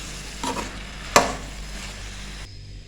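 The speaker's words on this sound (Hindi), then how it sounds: "इसको अच्छे से मिक्स करेंगे" A spoon stirs a mixed vegetable curry of potatoes, peas and carrots with green chilies and garam masala, giving a few scraping strokes, one sharp clatter near the middle, and a low sizzle underneath, with no talking.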